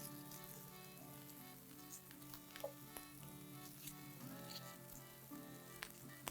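Chopped cabbage sizzling and frying in a hot pan, a dense steady crackle with scattered sharp pops and a few clinks of stirring throughout, close and continuous with no talk.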